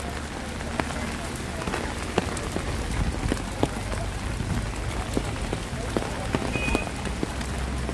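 Heavy rain pours steadily during flooding in Karjat as the Ulhas River rises, a dense continuous hiss with scattered louder drops and a low rumble underneath, with no voices.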